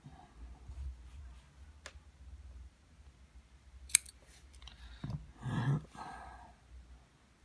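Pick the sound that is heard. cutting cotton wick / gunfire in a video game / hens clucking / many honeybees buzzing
cutting cotton wick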